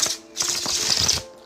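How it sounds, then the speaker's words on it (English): A deck of playing cards riffled in a bridge shuffle, a quick close clatter of cards after a short click, ending in a brief settling patter, with no talk. "When I do the bridge shuffle"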